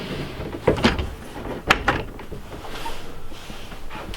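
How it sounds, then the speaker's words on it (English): A sliding washroom door inside a 2019 Bailey Pegasus Grande caravan is rolled along its track, giving a few close knocks and thuds followed by softer rattling, with no talk. "a sliding washroom door."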